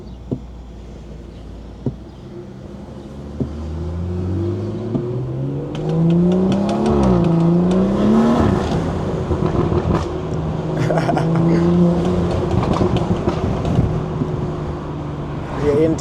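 Stage 2+ BMW 340i engine revving and accelerating as it winds up through the gears, loud and close, with crackling exhaust pops on lift-off and voices in the cabin.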